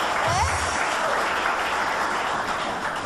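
A TV studio audience claps in a steady, dense wash of applause that holds at a loud, even level from start to finish with no talk.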